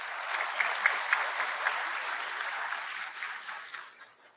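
An audience applauds in a hall at a university convocation, a steady crowd of clapping hands with a few sharper claps early on, holding level before fading out toward the end.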